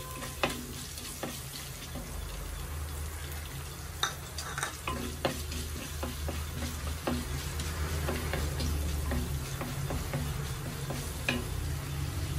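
Finely chopped ginger sizzles in hot oil in a pan while it is stirred. A constant low frying hiss runs under frequent sharp scrapes and taps from the spoon.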